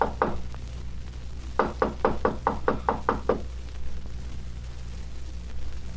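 Knocking on a door in a 1952 radio drama: two quick raps, then a firmer run of about eight evenly spaced knocks, close and distinct over a faint background hum, with no talking.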